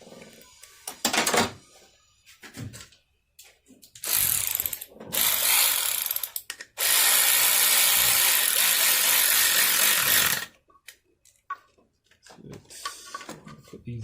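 A ratchet with a 7 millimeter socket clicks on a Chevy Monte Carlo, in short bursts and then one long continuous run of loud, close clicking, with quiet gaps between.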